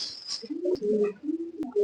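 Army breed pigeons coo softly and close in a loft, several low rolling coos running one after another amid faint rustling and a couple of sharp clicks.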